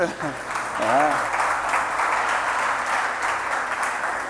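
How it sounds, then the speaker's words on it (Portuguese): A church congregation applauds in a dense, steady wash of clapping that holds for several seconds after a brief voice at the start. "Vamos aplaudir a Cíntia, irmãos."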